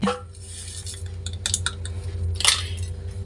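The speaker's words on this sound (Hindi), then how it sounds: "नींबू के रस में कॉफी को अच्छी तरीके से मिक्स कर लेना है" A metal spoon stirs coffee powder into fresh lemon juice in a small vessel, giving a few light clinks and scraping taps against the container, close and fairly quiet, over a low steady background hum.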